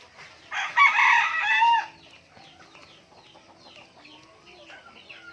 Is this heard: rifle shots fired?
no